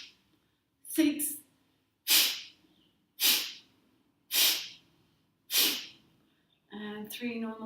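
Forceful rhythmic yoga breathing, five sharp loud nasal exhalations about one second apart, each a burst of breathy hiss, followed by a person speaking.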